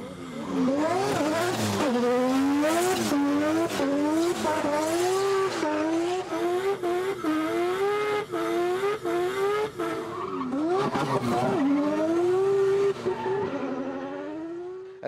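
A drift car slides at the Goodwood Festival of Speed, tires squealing continuously as the engine revs rise and fall in repeated sweeps, loud and close throughout with no talk.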